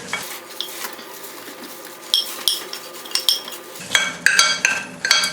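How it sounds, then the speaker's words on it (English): Potatoes go into a frying pan over cooked egg for a Spanish omelette, with a steady sizzle under scraping, stirring and clinking utensil sounds that grow busier toward the end, close and fairly loud. "Now we're gonna put the potatoes here."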